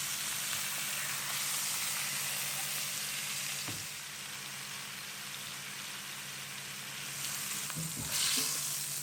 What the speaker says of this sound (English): Isn't that a lovely sound?